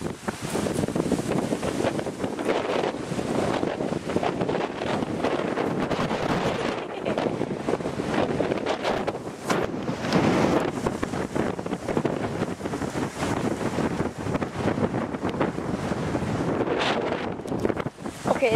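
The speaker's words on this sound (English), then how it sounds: "Okay, that was a good gust." Strong outdoor wind gusts battering the microphone, a loud, continuous roaring rush that swells and surges in waves without letup.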